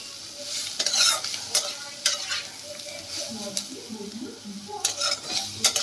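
Green beans fry in a pan with salt and turmeric while a utensil stirs them, scraping and knocking against the pan in irregular strokes over a steady, close sizzle.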